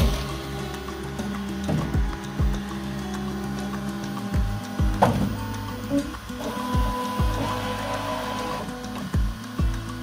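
3D printer printing ABS with its glass door opened, stepper motors whirring and buzzing in shifting tones with periodic clicks and thumps, steady and close.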